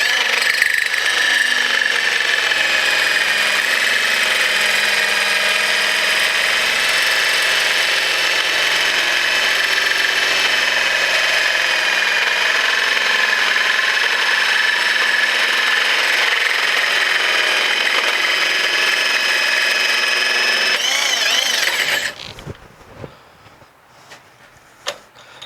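A tube notcher cutting an offset notch into a metal tube, a loud continuous high grinding whine held for about twenty seconds before it cuts off and spins down to near silence.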